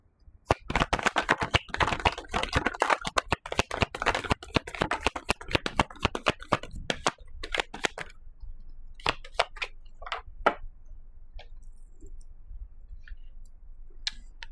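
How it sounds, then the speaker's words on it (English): Tarot cards being shuffled and pulled: a dense run of quick riffling clicks and flicks for several seconds, then sparser isolated snaps and taps as cards are drawn, close and crisp with no talking. "I'll just pull a couple of cards"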